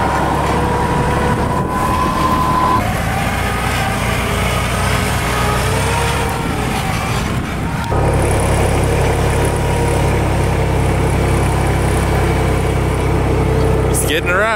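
A tractor engine drones loudly and steadily while someone rides it outdoors, its pitch and load shifting partway through; voices talk over the continuous engine noise.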